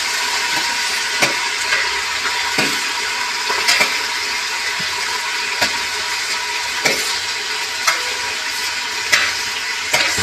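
Onions frying in a pan for homemade chicken biryani, a steady soft sizzle with occasional sharp clicks and scrapes of stirring spread irregularly across ten seconds.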